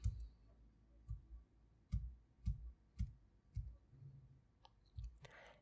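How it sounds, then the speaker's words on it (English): Computer keyboard arrow keys are tapped one at a time, about nine crisp, close clicks at uneven intervals in a quiet room, with no talking. "I will use the arrow keys to move it down."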